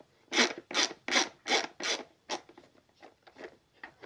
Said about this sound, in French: je vais dévisser